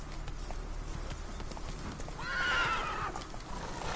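Roach, the horse in The Witcher 3, gallops with steady clip-clop hoofbeats and lets out a loud whinny midway through, alone with no talk.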